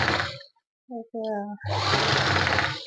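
A sewing machine stitches a fabric hair band, loud and close, in a short burst followed by a longer steady mechanical whir with a low hum underneath, with a brief spoken moment between the runs.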